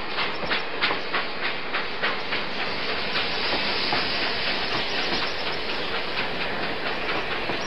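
A train rolls past with a steady rhythmic clickety-clack of wheels over rail joints beneath a loud, broad hiss.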